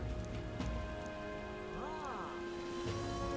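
Rain in the video game Metaphor: ReFantazio, a faint steady patter of rainfall on surfaces with soft ambient hiss under a quiet musical tone.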